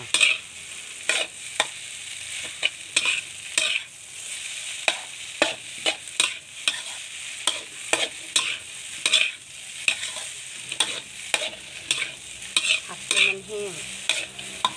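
Nam fried rice with pork being stir-fried in a pan: a brisk, regular series of loud scraping spatula strokes over a continuous sizzle, close up, with no talking.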